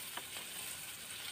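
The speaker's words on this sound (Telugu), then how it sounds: "ఇది అయితే మంచిగా ఫ్రై అవుతుంది" Food sizzles steadily in a pan over a campfire-style cooking setup at a night camp in a tall tree, a continuous close hiss with a couple of faint stirring scrapes and no talk.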